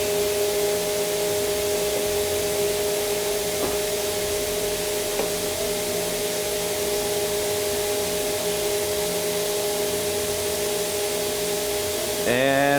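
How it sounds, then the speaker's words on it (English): The vacuum pump of a vacuum forming machine runs with a steady, loud broadband hiss and a constant tonal hum throughout, with a brief shift in the sound right at the end. "So we can switch off both the vacuum and the heating elements."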